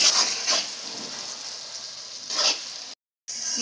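Onion, garlic and capsicum frying in a pan give a soft, steady sizzle with a few brighter bursts of spattering, close by, broken by a brief silent gap near the end.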